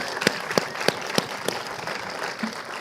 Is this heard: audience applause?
yes